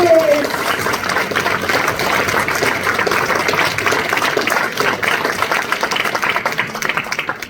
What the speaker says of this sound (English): Give a massive, massive round of applause.